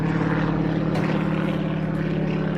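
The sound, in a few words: old military propeller plane flying over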